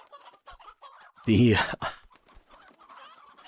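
Chickens in a video game give a loud, close burst of clucking and squawking, with someone talking calmly before and after it.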